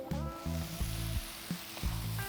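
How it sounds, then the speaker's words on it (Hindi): Mutton masala sizzles hard on a high flame, with a bright steady frying hiss and a few spoon strokes scraping through the thick mixture in the pot. "अब इसे अच्छे से मिक्स कर लेंगे, फ्लेम हाई रखेंगे।"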